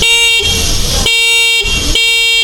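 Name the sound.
Mac Impact electric scooter horn honking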